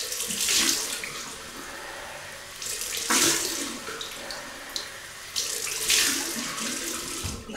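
A faucet runs steadily into a sink as a Boots three-piece double-edge safety razor is rinsed, a close, continuous splashing rush with brief swells as the blade passes through the stream, no voices.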